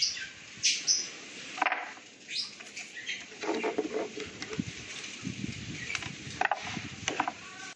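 Nickel wire is cut for spot welding battery cells, producing a series of sharp metallic snips and clicks amid handling rustle, close and fairly quiet.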